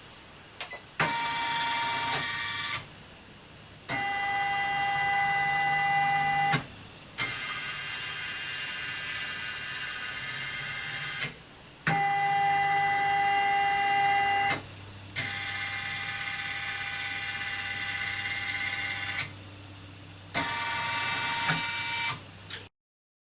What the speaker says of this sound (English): I'm going to do a trace, and it's tracing with the first needle